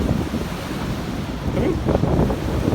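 Ocean waves roll onto a beach in a steady, close wash of surf, with wind buffeting the microphone throughout.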